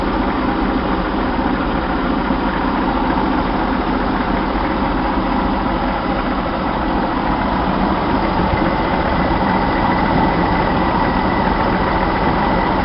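A Chevy 230/250 straight-six engine fitted with a Weber two-barrel carburetor idles steadily up close, a continuous low rumble with an even mechanical hum and no voices.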